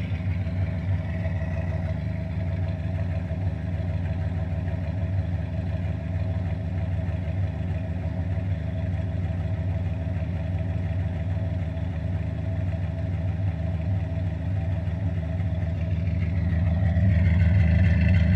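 A 1974 Dodge Dart engine runs after five years sitting, a steady, close, lumpy idle with a throbbing low rumble and faint clatter, swelling louder near the end as it revs slightly, with no talking.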